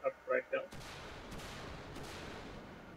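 Ontos recoilless rifle firing HESH rounds in War Thunder, a single loud blast followed by a long rumbling roar that fades slowly, preceded by a few short higher tones.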